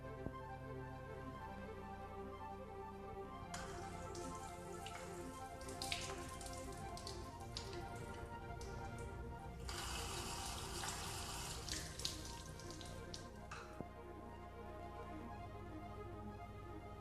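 Water surges and splashes through a Watts 909, 009, 990 or 992 backflow preventer as its isolation valves open, a close steady rushing that swells into a louder gush midway before settling.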